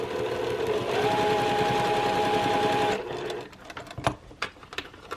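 A sewing machine runs steadily for about three seconds, stitching a quarter-inch seam through quilt block fabric, a fast even whir close by, then stops, leaving faint handling clicks and rustles.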